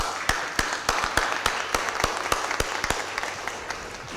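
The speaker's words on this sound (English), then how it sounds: "Let's give her a round of applause." A small audience at a city Board of Aldermen meeting gives the mayor a round of applause. The claps are sparse and distinct, sounding at a moderate distance against a quiet room hum.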